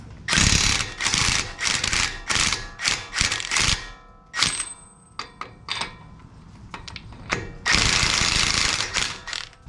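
An air hammer pounds the axle out of a 2021 Ford Bronco during a lift kit install, loud close bursts of rapid hammering separated by short pauses and scattered metallic clicks.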